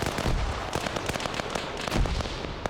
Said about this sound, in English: So we're getting grenades getting thrown back and forth here